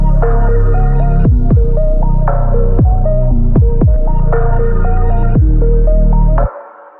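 Keys loop with its lower octave pitched up through a Crystallizer effect: a loud, repeating pitched pattern with sharp downward swoops, playing alone and cutting off abruptly at the end.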